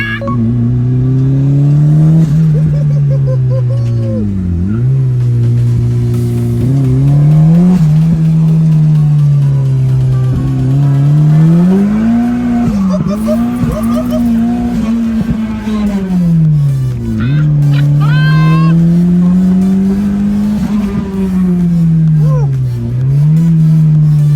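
A turbocharged Mazda Miata engine drones loudly from inside the cabin, pitch climbing and dropping through gear changes as it accelerates hard, with faint voices underneath.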